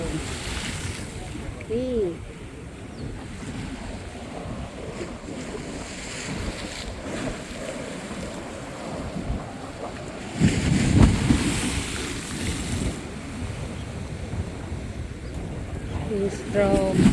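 Strong wind at sea aboard a boat, roaring and buffeting the microphone with rushing water and hull noise that swells louder partway through, while people talk briefly.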